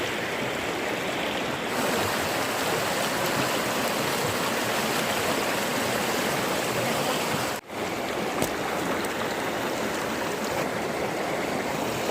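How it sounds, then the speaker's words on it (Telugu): A stream flows through a valley in dense forest near a tribal village, a constant close rushing and burbling of water that briefly dips for a moment partway through, with no one speaking. "ఈ లోయలో వాగు కూడా ఉంది."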